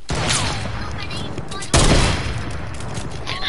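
Rapid sniper rifle fire in a snipers-only no-scope video game match, with dense loud cracks and a sharp heavier shot about midway, continuous and close throughout.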